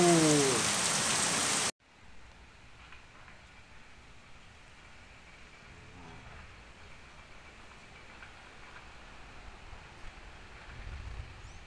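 Rain falling in the Sertão of Ceará, northeastern Brazil, a soft, steady patter that continues evenly for the length of the clip after a loud opening burst cuts off.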